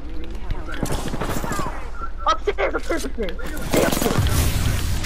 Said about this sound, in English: Oh, they threw a grenade.